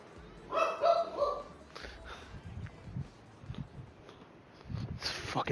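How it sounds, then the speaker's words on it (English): Dogs bark in short bursts, loudest near the start and again at the end, over a murky, noisy background with broadband hiss. "It's fucking dogs barking."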